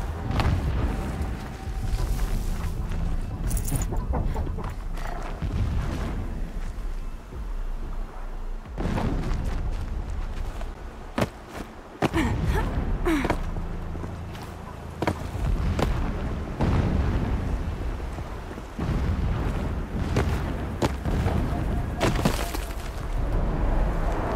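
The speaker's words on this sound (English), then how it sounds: "Explosions in the distance." Distant explosions in the Horizon video game, heard as scattered booms and crackling bursts over a low rumbling background, some sharp and others dull, spread irregularly across a long stretch.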